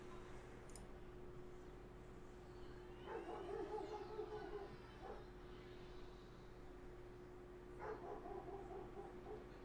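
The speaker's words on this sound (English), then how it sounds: "My dog not happy out there." A dog barking outside, faint and distant, two short clusters of barks separated by a few seconds over a steady low hum.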